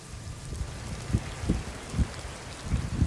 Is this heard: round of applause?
no